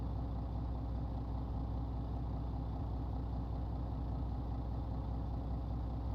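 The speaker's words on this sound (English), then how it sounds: "Listen to that engine." Heavy truck engine idling in Euro Truck Simulator 2, a steady deep diesel throb with even low pulsing, constant and close, with no voices.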